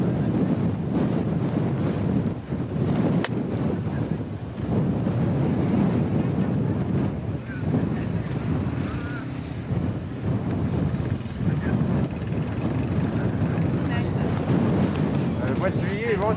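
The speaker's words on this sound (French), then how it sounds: "Le mois de juillet est venteux un peu dans la région" Strong wind buffets the microphone outdoors at a 1988 European F3I model glider competition, a loud, gusty roar rising and falling throughout, with people talking over it.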